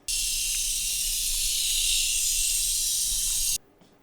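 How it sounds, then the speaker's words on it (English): A jet ski recorded underwater in Ria Formosa produces a steady, loud high-pitched hiss that holds constant, then cuts off abruptly near the end. "This is a jet ski in in Ria Formosa."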